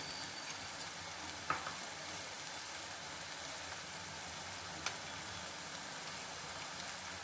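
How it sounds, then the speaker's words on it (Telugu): Drumsticks with salt, turmeric, chili powder and coriander powder simmer on a low flame, giving a faint, even hiss with a couple of soft clicks. "సిమ్లో పెట్టుకొని కొంచెంసేపు వాడ్చుకుందాం"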